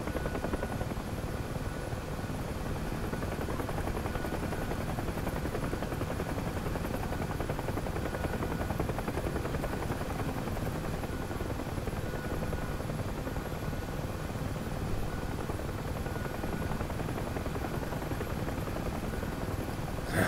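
A UH-1 Huey helicopter in the DCS flight simulator gives a loud, continuous rotor thrum and turbine drone that holds steady and close throughout, with no talking.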